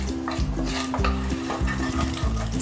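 Cumin seeds and red chilies sizzle and crackle in hot desi ghee for a tadka, loud and close, with a spoon scraping the pan in a steady repeated stirring rhythm.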